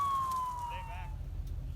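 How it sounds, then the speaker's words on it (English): A siren wails faintly in the distance, a single falling tone over low rumbling traffic, briefly joined by a second warbling note, as emergency vehicles approach a burned combine harvester during wheat harvest. "here comes lights and sirens"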